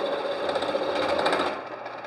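A machine cuts a chamfer on a metal wheel spacer in a shop, a loud steady mechanical whine with a rapid buzzing texture that eases off near the end.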